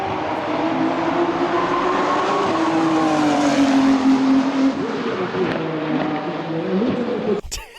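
A Praga Bohema hypercar accelerates hard, its engine note climbing in pitch and then dropping abruptly with each firm gear shift, loud and close, several shifts in quick succession.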